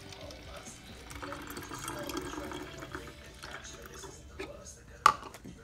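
Half a cup of water poured into white vinegar while making a homemade cleaner, a steady gurgling trickle running for several seconds at low level, ending in a sharp clack near the end.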